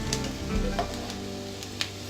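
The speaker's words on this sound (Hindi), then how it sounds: "इसे हम इस तरह से चलाते रहेंगे। इससे हमारे ड्राई फ्रूट्स जलेंगे नहीं।" Dry fruits sizzling in hot ghee while being stirred in a pan for sheer khurma, a steady soft frying hiss with faint scraping of the spoon, close, no speech.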